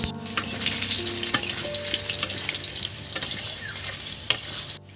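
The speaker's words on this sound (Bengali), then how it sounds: "এই আলুগুলো দিয়ে দিচ্ছি। মাছ ভাজার তেলে একদম হ্যাঁ। আলু ভাজা হবে।" Potatoes frying in oil already used to fry katla fish give a steady, dense sizzle in the pan with occasional stirring clicks, heard up close with no talking.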